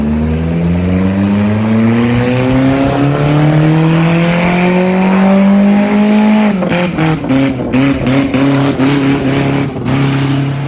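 A car with a harsh, bad-sounding aftermarket exhaust drones loudly and close, its pitch climbing steadily for several seconds, then breaks into a choppy run of rapid revs and blips near the end.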